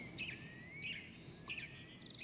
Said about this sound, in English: it was again overcrowded with chattering, squawking birds